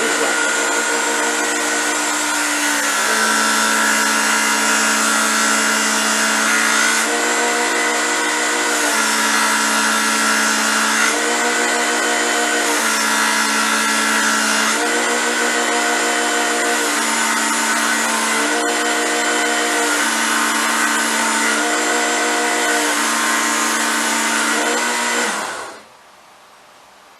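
An electric knife sharpener runs with a loud, steady motor whine while a blade is drawn through its honing grit in repeated strokes, close up, before the motor cuts off near the end.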